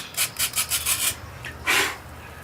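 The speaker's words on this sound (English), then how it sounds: "just kind of round it off with some sandpaper" Sandpaper rounding off the edge of a wooden piece, heard as about six quick rhythmic rasping strokes close by, then a pause and one longer, louder scrape.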